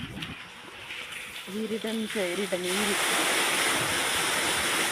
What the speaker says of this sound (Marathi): यायला का मित्रांनो धबधब्याचा आवाज?